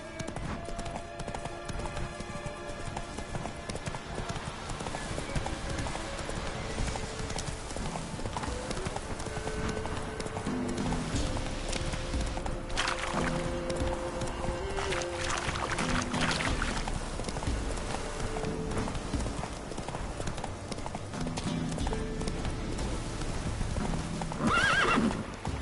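Roach the horse gallops in The Witcher 3, with rapid, continuous hoofbeats and a whinny, set against an ambient game soundscape.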